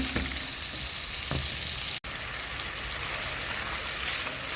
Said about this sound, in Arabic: هنزل عليها بقرن فلفل سبايسي وقرن فلفل بارد او رومي، وهنشوح الكلام الجميل ده كله كده مع بعضه.